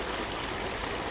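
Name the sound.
water flowing in from a pumped line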